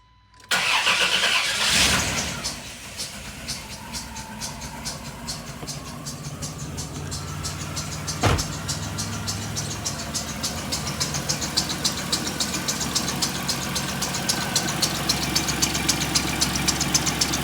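A 1996 Dodge Grand Caravan engine cranks, catches and settles into a steady idle with a rhythmic ticking pulse, running on old gas, loud and close throughout with a brief clunk midway.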